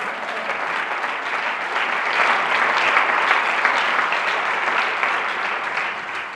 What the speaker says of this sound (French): vous pouvez acclamer le Seigneur